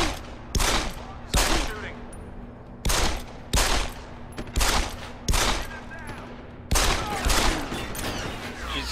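Gunfire during a boss fight in the video game Deus Ex: Human Revolution, with repeated loud bursts of shots in quick volleys over a steady low game hum, filling the whole stretch.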